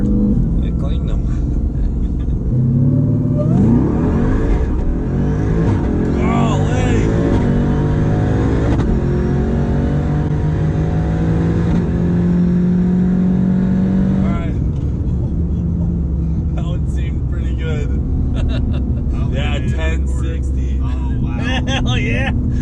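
A 900hp Jeep Trackhawk revving hard during a tire-cleaning burnout, a loud sustained engine roar that rises and falls in pitch, with people talking and exclaiming over it.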